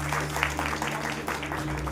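Modest audience clapping greets a bishop at a Delhi church council meeting, a continuous soft patter of hands for about two seconds with no strong peaks.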